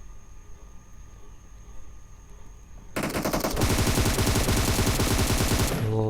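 Automatic gunfire in PUBG Mobile erupts after a quiet stretch, a rapid, loud burst of rounds rattling in a fast steady rhythm for about three seconds before stopping, with no talk.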